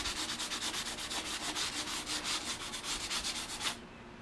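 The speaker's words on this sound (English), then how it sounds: "light sanding." Light hand sanding on a DDR arcade cabinet during restoration, a close, regular back-and-forth scrubbing of about two strokes per second, stopping abruptly near the end, no talk.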